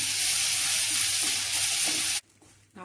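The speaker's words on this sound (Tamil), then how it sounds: "நம்ம எடுத்து வச்சிருக்கிற நார்த்த இலையை அதில் சேர்த்துக்குவோம். சேர்த்து நல்லா வதக்கி விடுங்க." Citron leaves with lentils and red chillies sizzle and fry steadily in a pan as they are stirred. The frying hiss cuts off abruptly near the end.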